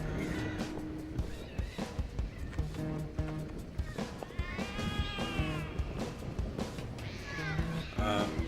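Cats meowing and yowling in The Cat Lady video game, several drawn-out cries rising and falling over a busy layer of game sound and a voice talking.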